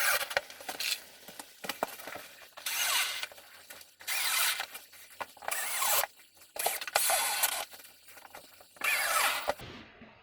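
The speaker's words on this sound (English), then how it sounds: "Now I'm being careful to screw in these gyprock screws." Power drill driving bugle-head gyprock screws into a plasterboard wall in a toilet renovation, heard as about five separate loud whirring bursts of a second or so each, with short pauses between them and no talking.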